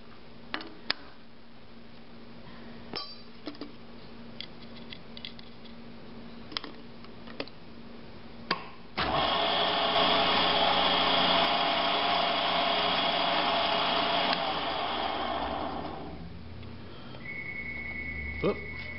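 A size F clearance drill bit bores into metal on an Ellis 2000 horizontal bandsaw; after scattered clicks and taps, a loud steady whine runs for about six seconds, then fades into quieter tones.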